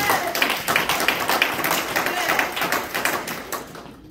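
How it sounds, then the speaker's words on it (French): A church congregation claps together in a rhythmic burst, with dense, close hand claps continuing steadily for several seconds before tapering off. "Donnons une acclamation"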